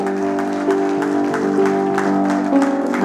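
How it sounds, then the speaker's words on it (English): A church congregation, standing, claps hands in applause for the Lord, a busy patter of claps layered over sustained organ or keyboard chords that fill the room. "would you give the Lord a hand clap? The biggest applause"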